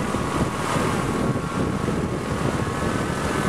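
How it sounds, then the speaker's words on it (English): Wind gusting across a small wind turbine in the open, a loud, steady broadband roar of wind buffeting the microphone for several seconds. "give me a gust."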